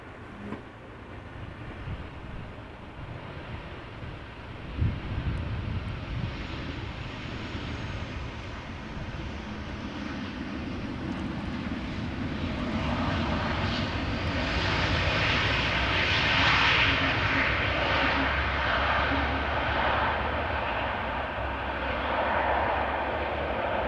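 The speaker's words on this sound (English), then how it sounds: "Transavia 737-800, 23 years old." A 23-year-old Transavia Boeing 737-800 jet at Amsterdam Schiphol Airport produces a steady engine roar that swells louder toward the middle and stays strong, heard from a spotting position without any talk.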